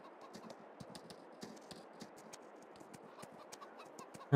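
Horse trotting in the farming video game Frontier Farmer: a steady run of light, quick hoof clip-clops, soft and even throughout, with faint farmyard ambience behind.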